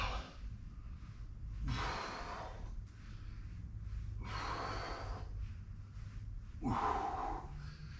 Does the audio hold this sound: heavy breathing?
yes